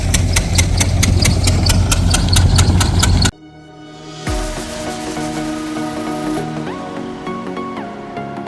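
A tractor engine runs at a village farm, a loud steady rhythmic chugging idle that cuts off abruptly, then resumes as a quieter, smoother mechanical drone.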